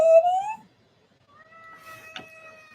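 A pet cat named Mr. Kitty meows for his food, letting out two drawn-out, whining calls close to the listener, separated by a brief silent pause.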